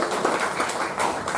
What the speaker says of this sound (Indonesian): Amin, kasih tepuk tangan.